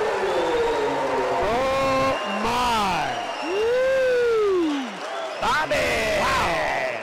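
A basketball crowd roars after a slam dunk, with rising and falling whoops and yells over a steady noisy din that carries through the whole stretch.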